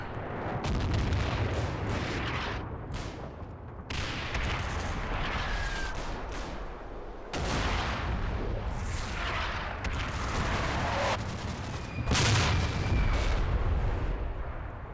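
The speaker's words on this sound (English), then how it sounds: "Our mortar's coming in a bit off target." Mortar fire in Combat Mission: Battle for Normandy, a string of deep booming blasts at irregular intervals with rumbling tails, some near and loud, others more distant, over a steady battlefield background.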